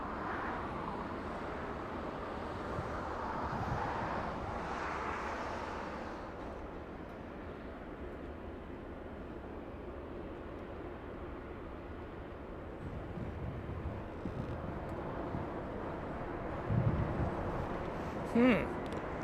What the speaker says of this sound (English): Now we have an American flight taking off, but it doesn't want to tell us where it's going.